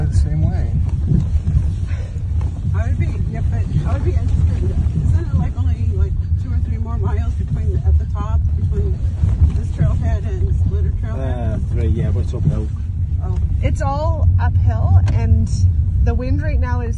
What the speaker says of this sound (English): You get very windy, very quickly.